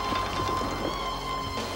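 Steady rain in a 1987 sci-fi horror movie trailer, a dense continuous hiss of falling water with a faint sustained musical tone underneath, constant and loud throughout with no talking.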